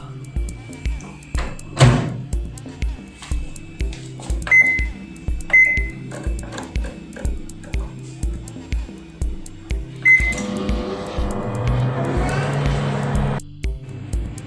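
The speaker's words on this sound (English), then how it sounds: "boil it using microwave." A microwave oven poaching an egg in a cup hums steadily with a rhythmic pulsing drone, a few beeps sound, and a door thunks open near the end as the hum stops.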